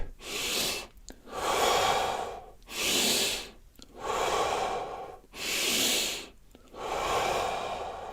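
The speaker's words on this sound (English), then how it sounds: "Inhale, exhale down. Inhale, exhale, inhale, exhale." Deep, slow breaths drawn in and let out during a guided breathing exercise, six long, loud, evenly paced breath sounds alternating with brief pauses, close up, with no talking.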